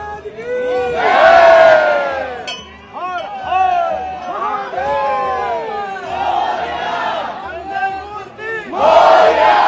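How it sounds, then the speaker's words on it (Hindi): Devotees crowd the Mahakaleshwar temple in Ujjain, a loud, dense mass of voices calling and chanting in surging waves, with faint clinks of metal or glass. "जैसा कि आप देख सकते हैं कि कितनी ज्यादा यहाँ पे भक्तों की भी भीड़"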